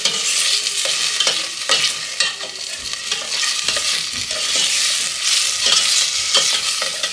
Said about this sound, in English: And I'm going to let this saute here for a little bit.